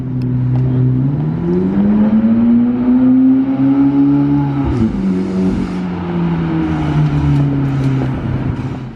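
A McLaren Elva supercar drives past and accelerates in Monaco, its engine note rising steadily in pitch, dipping briefly, then climbing again, loud and close throughout without talk.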